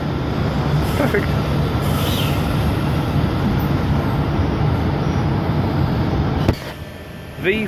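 V14 set passenger train standing at the Tuggerah platform, a continuous rumbling rail noise that cuts off abruptly near the end, with brief background voices.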